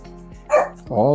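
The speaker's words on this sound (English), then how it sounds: "My dog's acting up again." A dog barks twice in quick succession close by, loud against quiet background talk in an indoor room.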